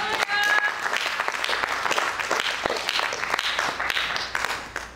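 A church congregation breaks into loud, sustained applause and clapping for God, a dense crowd sound filling the room, with faint voices mixed in.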